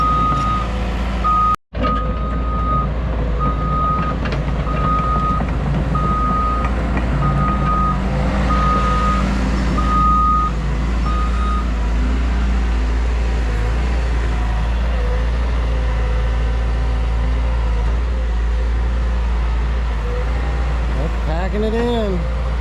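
Caterpillar heavy equipment digs at a pond dam repair with bentonite clay. A loud diesel engine rumbles steadily while a reversing alarm beeps in an even rhythm for about ten seconds, and hydraulic whines and metal clanks follow.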